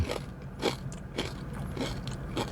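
Crispy pork cracklings served with tom yum noodles are chewed up close, five loud crunchy bites at an even rhythm about half a second apart, with no talking.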